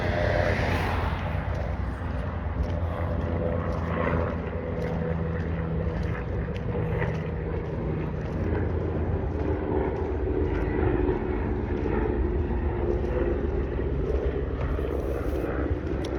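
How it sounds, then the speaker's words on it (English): A helicopter drones overhead, a steady broad roar that holds for the whole stretch without fading, with no one talking. "that is a helicopter"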